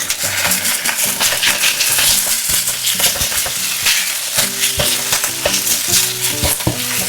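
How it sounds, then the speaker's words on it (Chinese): Chicken pieces with sliced ginger and scallion whites sizzle loudly in a hot pan, with a spatula scraping and clattering in quick irregular strokes as the meat is stirred apart, and no voices. "另起锅爆香姜片和葱白，放入鸡肉，快速滑散。"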